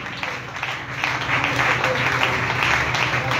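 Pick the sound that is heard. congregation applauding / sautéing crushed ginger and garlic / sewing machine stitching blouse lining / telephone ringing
congregation applauding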